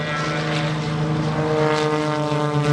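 A T-34 Mentor propeller airplane on its takeoff roll at a lakeside airshow gives a loud, steady propeller and engine drone with a strong even hum throughout.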